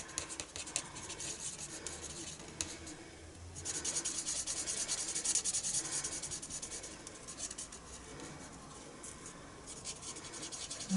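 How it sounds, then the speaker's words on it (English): Stampin' Blend alcohol marker, bullet tip, scratching and rubbing across paper in steady strokes, close and fairly faint, with brief pauses between passes. "I'm going to use the bullet point or the pointy tip, because I just somehow find I have better control with that than the brush nib"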